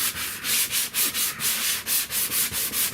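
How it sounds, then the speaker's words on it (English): Rhythmic back-and-forth sanding of a car body panel with 150-grit sandpaper over a thin two-coat finish, steady close strokes of gritty rasping about five per second with no talking. "I'm gonna try to sand this with 150"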